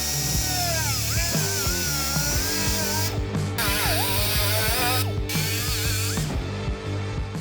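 A power tool cuts along a marked line on a CBI Classic rear bumper for a third-generation Toyota Tundra, its loud whine rising and falling in pitch with ratcheting, mechanical chatter throughout, briefly dropping out a few times.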